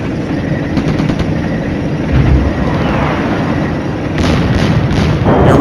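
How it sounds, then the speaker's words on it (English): Artillery fire in the wargame Flashpoint Campaigns: a muffled, rumbling boom around the midpoint and another deep thud near the end, set against a steady low roar of background battle ambience. "More artillery from our boys."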